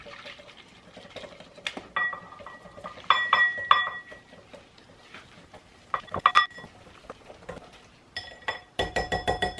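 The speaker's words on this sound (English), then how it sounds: "So I'm gonna use a whisk and basically just mix this how a mixer would mix it" A whisk works vegan pizza dough by hand in a bowl, giving irregular close clinks and knocks of metal on the dish, with short clattering bursts and quieter pauses in between.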